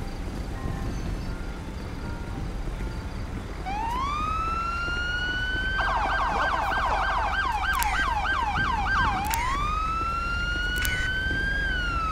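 A video game ambulance siren rises and then wails in a steady, fast-warbling pattern, loud and close, over a constant low engine rumble, with no talking.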